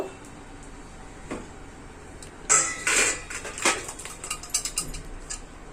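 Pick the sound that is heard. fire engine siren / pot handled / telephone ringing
pot handled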